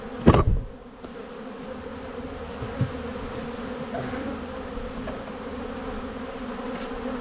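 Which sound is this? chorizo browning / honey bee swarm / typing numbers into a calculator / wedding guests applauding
honey bee swarm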